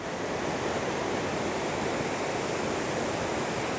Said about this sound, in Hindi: देखिए कितना सुंदर वाटरफॉल है